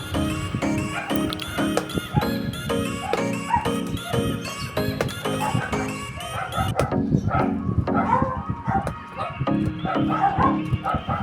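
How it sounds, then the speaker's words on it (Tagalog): Several dogs bark repeatedly and loudly nearby, overlapping in bursts, with a rooster crowing and hens clucking mixed in. "Ang iingay ng aso namin, tawulan ng tawulan guys."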